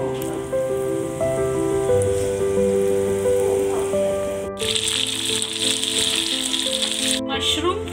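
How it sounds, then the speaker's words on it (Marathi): Mushrooms coated in cornflour frying in a pan for biryani, with a continuous crackling sizzle under a loud tonal hum; the sizzle grows denser and louder partway through. "मशरूम आपण फ्राय करायचे."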